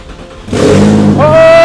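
An abandoned Nissan 350Z with a six-speed manual cranks and catches, its engine bursting into a loud, close roar that climbs into a rising rev.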